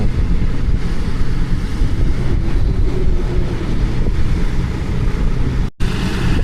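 Douglas DC-3 piston engines roaring at the Aviodrome, a loud, steady, low-heavy rumble mixed with wind buffeting, with a brief dropout near the end.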